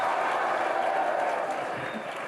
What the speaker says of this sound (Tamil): முழுக்க தலைவர் தளபதிக்காகத்தானே இந்த கைத்தட்டல்லாம்.